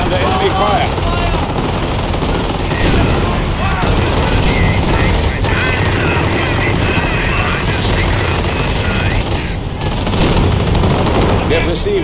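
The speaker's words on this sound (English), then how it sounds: "Base is under enemy fire." Heavy sustained gunfire and machine-gun bursts hit a base under attack in the World War II strategy game Company of Heroes, loud and dense, mixed with rumbling battle noise and a helicopter-like drone throughout.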